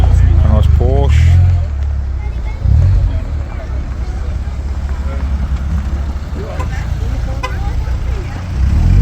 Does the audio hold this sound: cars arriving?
yes